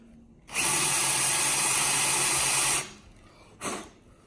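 A power drill whirs loudly and close for about two seconds while rechecking fastener holes in a repair lab, then winds down before a second very short burst.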